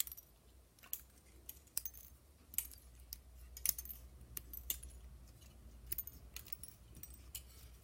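Scissors snip through thin aluminium Nespresso capsule petals while crafting a flower, giving a string of quiet, sharp clicks and small metallic ticks spread irregularly over several seconds, faint and close.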